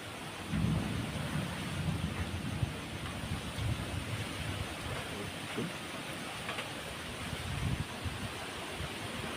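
A thunderstorm with lightning and rain, heard as a dense wash of steady rainfall and low rolling thunder rumbles, with faint voices here and there.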